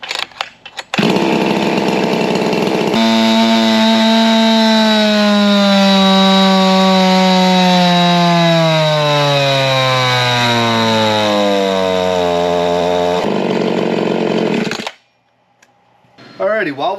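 A ported Husqvarna 346xp chainsaw screams at full throttle on a dyno, a loud, steady high-revving engine whine that slowly drops in pitch under load before cutting off abruptly near the end.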